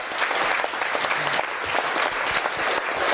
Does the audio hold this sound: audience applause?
yes